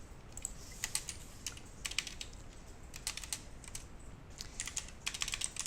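Computer keys tapped in small clusters at a desk while making a banner in Photoshop, likely the Alt+Delete fill shortcut, producing quiet irregular clicks over a soft steady room hiss.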